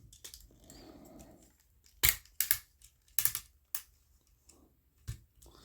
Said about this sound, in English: we're going to take and click these out, rotate that.